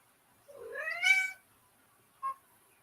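A house cat lets out one clear rising-and-falling meow, close and distinct in a quiet room, followed a moment later by a short second chirp-like meow.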